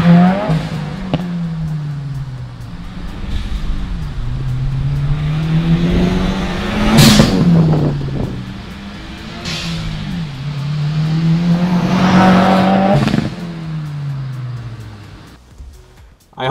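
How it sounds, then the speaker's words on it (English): Turbocharged 2015 Subaru WRX fitted with a TurboXS hybrid blow-off valve, engine rising and falling through repeated revs, with sharp bright whooshes of the valve venting as the throttle lifts, loud and close throughout. "hearing that great blow-off valve noise coming from under the hood"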